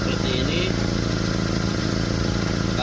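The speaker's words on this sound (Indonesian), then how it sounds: "suara ngegorok itu terjadi akibat ada kebocoran dari knalpot" A pickup truck's engine runs with a rough, snoring rumble caused by a leaking exhaust, loud and steady throughout with a low pulsing throb and some faint higher tones above it.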